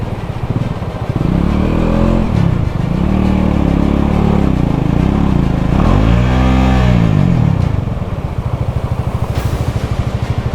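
A motorcycle labours through a rocky water crossing over boulders in Uttarakhand, its engine loud and close, revving up and easing off in repeated surges before settling into a rough, pulsing idle.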